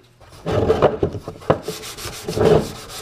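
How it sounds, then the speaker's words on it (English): Close, loud scratchy strokes of 220-grit sandpaper rubbing over a second coat of primer on an iPad dash panel, several back-and-forth passes in quick rhythm with no talking. "So now we're gonna get our 220 out again. Whatever, 220, 220. We're gonna sand it."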